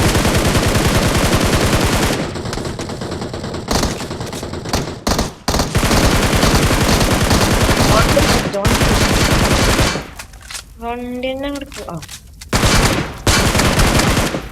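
Rapid automatic gunfire in the BGMI battle royale video game, long dense bursts with short gaps, loud and close, with a brief spoken line during a quieter stretch.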